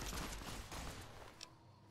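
Dense, loud volley of gunfire in the video game Fallout: New Vegas, continuous for about a second before fading into quieter rumbling with a brief sharp click near the end.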